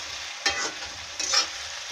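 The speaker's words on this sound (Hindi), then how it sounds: "हमने इसे 5 मिनट के लिए फ्राई कर लिया है। अब हम इसमें ऑनियन डालेंगे, ऑनियन का पेस्ट।" Chicken frying in a pan with onion paste for a desi chicken curry, a steady sizzle broken by two louder bursts of stirring and hissing, close and with no talking.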